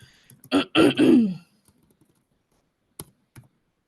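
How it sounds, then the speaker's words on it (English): A close, raspy throat clearing in two quick harsh pulses, followed by silence and a couple of faint clicks. "I'm trying to clear my throat"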